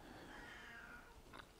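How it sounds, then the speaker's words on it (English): A house cat meows for attention, a faint drawn-out cry followed by a couple of short higher calls near the end, heard alone against quiet room tone. "I've got a cat here wanting attention."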